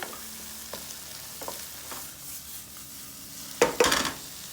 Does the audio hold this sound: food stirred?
yes